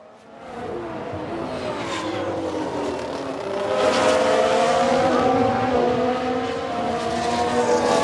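Race cars in the F1 Manager 22 game with a 1995 Ferrari drive past; engines swell from a rising whine into a loud sustained roar with shifting tones, heard alone.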